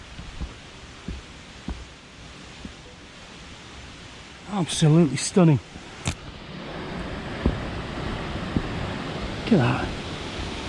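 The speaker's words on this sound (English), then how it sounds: "a wonderful, wonderful little waterfall." A small waterfall at Harrop Tarn pours out a steady, broad rushing hiss, with a person speaking briefly over it midway.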